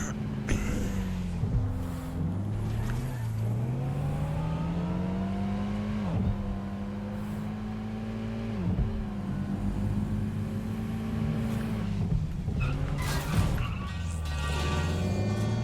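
A steady car engine drone in Watch Dogs: Legion, rising and falling in pitch as the vehicle speeds up and shifts, continuous and loud throughout with no talking.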